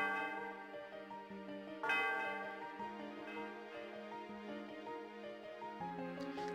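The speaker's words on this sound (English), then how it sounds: "It's time to ring the bell." A tower bell in the Pokémon White video game chimes with a bright struck tone, ringing out once and then again, its sustained tones layered over steady game music.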